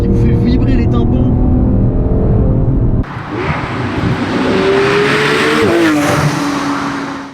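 A Porsche Cayman R engine revving loudly up close, a dense roar that climbs in pitch and then steadies in a sustained high scream before the sound cuts off at the end.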